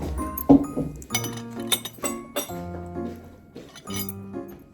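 Glasses clink together several times in a quick, bright series during a toast at a family 100-day party, with ringing tones lingering between strikes, close by.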